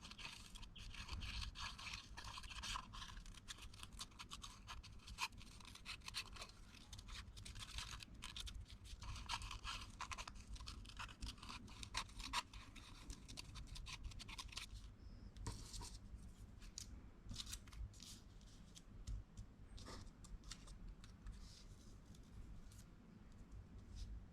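Scissors cutting paper shapes for a mixed-media sea-themed craft, close and continuous with dense crisp snips and scraping.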